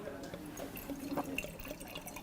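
Wine poured into a glass makes a faint, soft trickle with light drips, quiet and intermittent against a low background.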